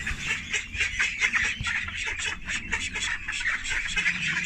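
A flock of call ducks quacking continuously, many overlapping calls close by, dense and steady with no pauses.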